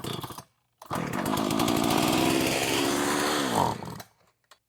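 A Partner chainsaw engine cranks and catches briefly, running with a loud raspy two-stroke buzz for about three seconds before revving up and dying away, bracketed by short quiet gaps and no talking.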